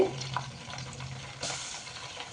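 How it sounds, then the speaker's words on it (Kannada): Hot ghee being made at home in a pan crackles and sizzles when water is splashed in. A sudden close burst of spitting comes midway, then settles into a quieter fizz. "ಈ ಥರ ಚಟಪಟ ಅಂತ ಸೌಂಡ್ ಬರ್ತಾ ಇದೆ ಅಂದರೆ ತುಪ್ಪ ಆಗಿದೆ ಅಂತ"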